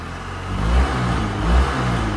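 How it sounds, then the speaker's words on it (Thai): A 2006 Suzuki Skywave 650 LX scooter with a six-speed engine and stock exhaust idles with a steady low rumble close by, swelling twice in gentle revs. "พอเป็นเครื่อง6เกียร์แล้วเนี่ย เสียงเครื่องมันก็จะเงียบกว่า รุ่นที่เป็นเครื่อง5เกียร์นะครับ"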